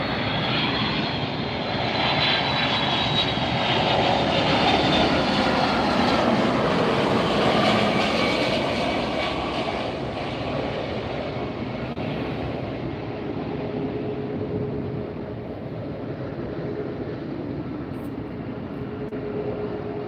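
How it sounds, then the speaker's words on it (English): A Delta Boeing 757-200 arriving from Boston roars in close at LAX, its engine noise loud and broad at first, then easing into a steadier whine as it passes. "Arriving now from Boston, we have a Boeing 757-200. This is Delta, flight 2004."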